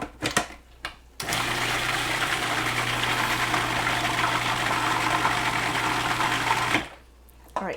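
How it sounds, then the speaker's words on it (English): A food processor blends ricotta and spinach with spinach water, a loud steady whirring motor that starts abruptly, runs for about five seconds close up, then stops, with brief clatter before and after. "I'm gonna throw this into our food processor"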